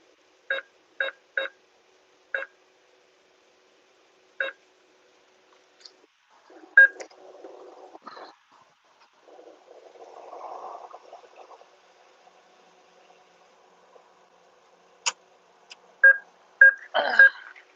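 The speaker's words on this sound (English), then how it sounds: "This is very loud beeping." A series of sharp ATM keypad beeps, loud and evenly spaced at first, then a stretch of muffled rustling before another quick cluster of beeps.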